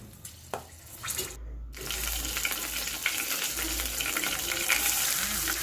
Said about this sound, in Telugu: ఆవాలు చిటపటలాడుతున్నాయి.